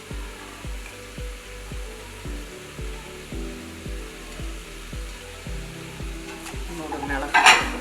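Beef being stirred in a hot pan with coriander leaves, a Kerala-style dry beef fry: a steady sizzle with repeated rhythmic scraping strokes of a spoon, close and fairly loud, with a sharper clatter near the end and no talk.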